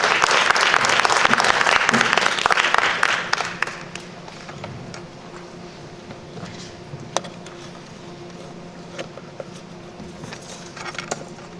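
Sustained audience applause after a student research presentation on sugar alcohols at a natural science academy event, loud and dense for about four seconds, then thinning into scattered claps and quieter room sound.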